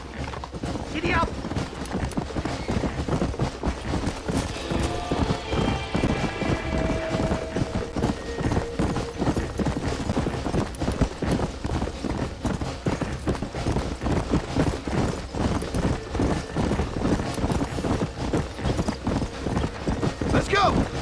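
A horse gallops at speed in Red Dead Redemption, with rapid rhythmic hoofbeats and an occasional whinny under frequent shouted voices and background music.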